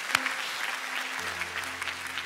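Church congregation clapping during a morning worship service, a short burst of hand claps that continues steadily as a low organ or keyboard drone comes in beneath it.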